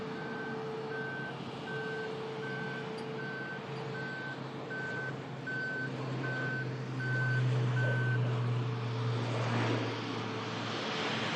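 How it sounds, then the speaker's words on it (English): A road sweeper at Manchester Airport sounds a regular series of reversing beeps over the steady hum of aircraft engines nearby, with a low engine drone swelling toward the end. "Road sweeper getting in on the action."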